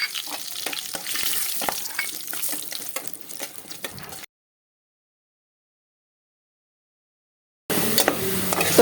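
Whole cardamom, cloves, peppercorns and cinnamon fry in hot oil with a steady crackling sizzle and scattered sharp pops. The frying drops out midway, then returns loud and dense for the final seconds.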